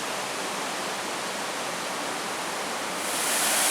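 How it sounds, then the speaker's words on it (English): Steady rushing hiss of Swallow waterfall on a Michigan to Maryland road trip, an unbroken wash of falling water nearby that swells slightly louder toward the end. "I believe there's an upper and lower Swallow waterfall."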